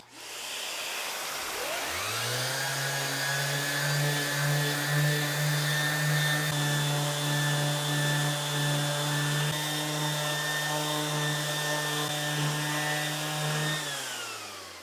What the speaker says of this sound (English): I'm going to take some 220 grit sandpaper on my random orbit sander. We're going to sand this top